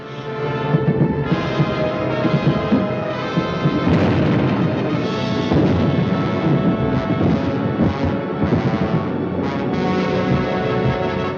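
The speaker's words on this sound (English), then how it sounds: "Millions of firebombs rained down on the great city of London." Firebombs explode over London during the Blitz in a dense, continuous barrage of heavy booms and rumbling blasts that stays loud for over ten seconds.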